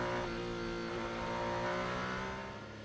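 A Ferrari hypercar races closely behind another car at Spa in a 2025 World Endurance Championship round, its engine a loud, sustained roar with rising pitch as it accelerates.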